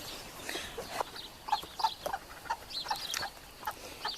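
Two brooding hens, just moved into a grassy pen, give a string of soft, irregular clucks close by, short repeated calls with small gaps and no talking.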